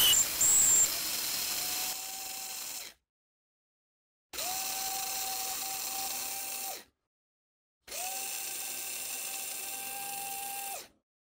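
An electric grinder whirs through broken wheat for a halwa-style dish, three separate high, steady motor runs of a few seconds each, cut by brief silences, close and fairly loud.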